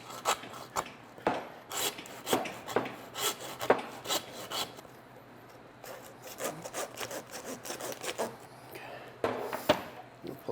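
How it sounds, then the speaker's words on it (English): Hand saw cutting through a hog rib during butchering, a steady run of rasping back-and-forth strokes close up, with brief pauses between bursts and some faint talk mixed in. "We'll take our saw. Goes there."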